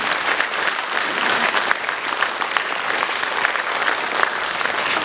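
Steady, dense applause from a large concert audience, loud and continuous for the full stretch with scattered sharp claps standing out, no voices on top.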